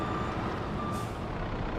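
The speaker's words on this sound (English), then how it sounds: "So it does have a reverse beep sound," Reversing beeps from a vehicle in Farming Simulator 22, a steady high electronic tone pulsing over a loud continuous engine rumble, with no voices.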